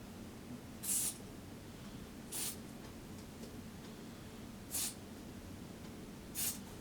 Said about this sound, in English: Again, I'm spraying it down the channel.